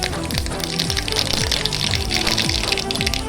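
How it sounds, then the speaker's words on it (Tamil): Mustard seeds spluttering in hot oil in a pressure cooker make a loud, dense, continuous crackle and sizzle close by, with a repeating falling tone underneath. "எண்ணெய் சுட்டதும் கொஞ்சம் கடுகு பொரிஞ்சுக்கணும்."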